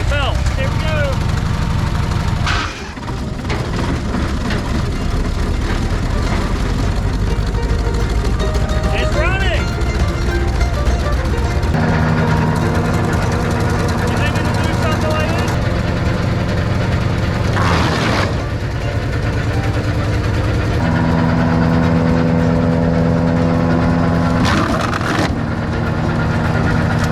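A junkyard wood chipper's engine runs with the chipper engaged, a loud continuous rumbling drone with shifting tones and occasional thumps. Talking is heard over it.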